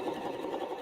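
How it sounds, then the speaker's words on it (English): A sewing machine runs a short burst of lock stitching on fabric scraps for a Valentine's place mat, a steady close whir with no pauses. "I'm going to sew with the lock stitch on at the beginning so everything stays."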